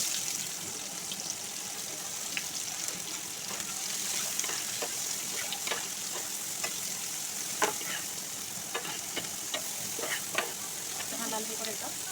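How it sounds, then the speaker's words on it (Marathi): Onion, garlic and curry leaves fry in a pan with a continuous close sizzle and scattered small pops and spatula clicks, while someone talks at times. "कांदा मस्त लाल झाल्या."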